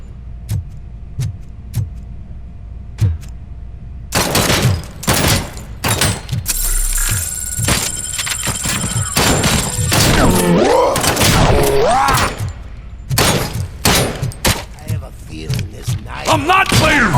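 Gunfire in RoboCop: Rogue City, starting after a quiet stretch of isolated ticks and then bursting into dense, loud volleys of shots with mechanical clanks, mixed with engine noise and raised voices.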